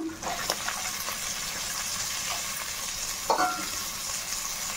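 Chopped beans stir-frying in a pan for veg fried rice, a steady hissing sizzle with a couple of scraping stirs, close and fairly loud, with no talking.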